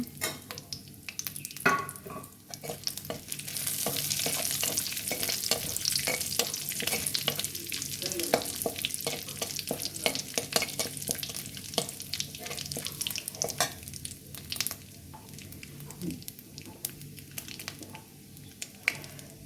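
White cumin seeds crackle and sizzle in hot oil, a close, fizzing spatter overlaid with frequent rhythmic scrapes and clinks of a spoon stirring in the pan.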